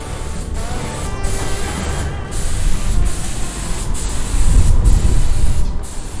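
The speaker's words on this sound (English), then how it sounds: "They're about to spray paint." A paint sprayer hisses steadily on a newly built house, a continuous loud airy spray with slight pulsing and brief breaks, no talking.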